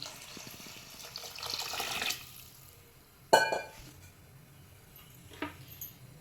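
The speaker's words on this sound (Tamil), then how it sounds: "சாப்பாட்டுக்கு தேவையான அளவு தண்ணி ஊற்றிக்கலாம்" Water poured from a tap or vessel into a pot of rice and toor dal, a steady splashing rush for about two seconds, then a sharp clink of metal and a brief second splash.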